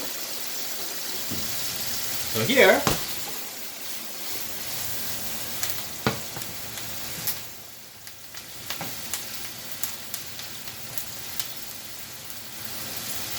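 Pork tenderloin sears in a hot pan with a steady close sizzle, a brief louder clatter early on, then scattered soft clicks and pops as the hiss continues.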